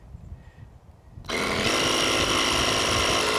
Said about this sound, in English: All right, turn the compressor on,